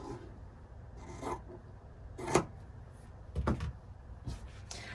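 Quilt border fabric is trimmed by hand, not with a rotary cutter, giving quiet rustling and handling noise broken by several sharp snips and scraping bursts, spaced irregularly, close and with no talk.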